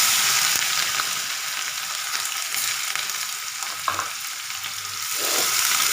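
Cumin seeds and chopped onion fry in hot oil with curry leaves for a cowpea dal, giving a steady close sizzling hiss throughout with occasional soft stirring scrapes.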